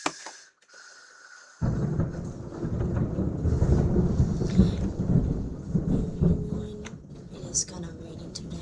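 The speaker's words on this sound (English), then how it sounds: "it is kind of raining today" Heavy rain hisses steadily and deep thunder rumbles through it, starting abruptly after a quiet opening and staying strong to the end.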